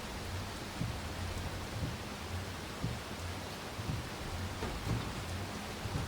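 Steady rain falling on pavement in the Farming Simulator 25 video game, a constant dense hiss with soft patters and faint low rumbles, running throughout with no talk.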